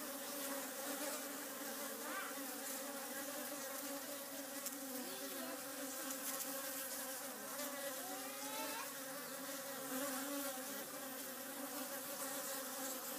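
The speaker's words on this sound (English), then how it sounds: "the bees, is being leaf cutter bees raiding right there" Leaf cutter bees buzz in a continuous, faint drone, with several wavering wingbeat tones rising and falling as individual insects fly close past and away.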